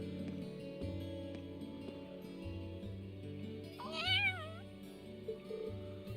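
A cat in the Trails of Cold Steel video game lets out a short, wavering meow over quiet background game music and ambient sounds.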